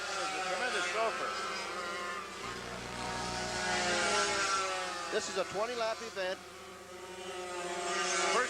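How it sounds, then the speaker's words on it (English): Racing go-karts fitted with tuned pipes whine and buzz at a 1979 Bridgestone Pro Kart series race in Jacksonville, the engine drone rising and falling at a distance beneath a commentator's talk. "I imagine you fans can really hear the noise here and the sound of these engines. They all use tuned pipes."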